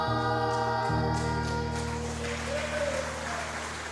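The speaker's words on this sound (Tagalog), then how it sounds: "Lakasan niyo po yung palakpak niyo." Church congregation applauding during a Sunday morning worship service, a dense, steady wash of clapping running the whole time over sustained organ or keyboard tones.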